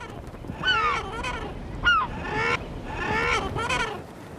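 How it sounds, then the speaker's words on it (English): Herring gulls on a British coast give loud, nasal laughing and yelping calls in several close, repeated bursts, with the series rising and falling over a few seconds. "All around the coast, the herring gull is a constant threat to other breeding seabirds."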